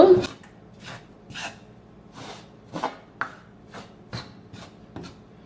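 Rice flour roasts in a pan for puttu and is stirred with a ladle: about a dozen separate scraping strokes at an uneven pace, close and fairly loud, over a quiet background.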